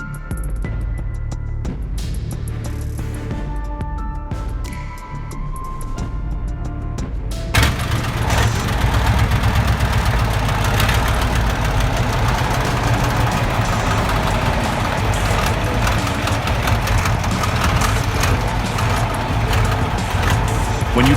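A heavy truck engine idles with a low rumble, then suddenly revs up loudly without the clutch fully released and holds a high, roaring drone for the rest of the clip.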